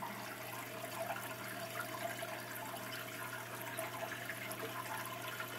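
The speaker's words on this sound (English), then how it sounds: "There's a lot of water going to this bed right now." Water pours steadily into an aquaponics grow bed, a continuous gentle splashing and gurgling at moderate distance with no voices.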